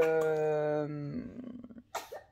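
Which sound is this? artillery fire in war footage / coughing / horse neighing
coughing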